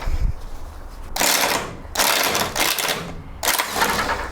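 An impact gun spins nuts off the suspension linkage of a GSX-R1000 motorcycle under rebuild, with three loud close bursts of rattling hammering separated by short pauses.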